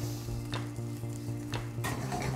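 Salted salsa coming up to the boil in a pan gives a steady sizzle and bubbling, broken by a few scraping stirs with a utensil, close and fairly loud.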